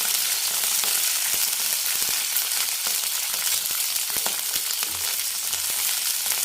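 Green chillies fry in hot oil in a pan, giving a steady, dense sizzle that holds loud and even throughout, with faint stirring ticks scattered through it and no talk.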